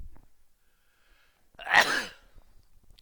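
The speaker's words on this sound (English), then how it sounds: "Sorry, I have to sneeze." A single sneeze bursts out after a near-silent stretch, sharp and breathy, then fades quickly into quiet.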